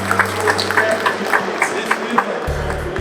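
An event audience gives a gentleman a round of applause: scattered claps crackle across a steady hum, with a brief tonal ring near the end.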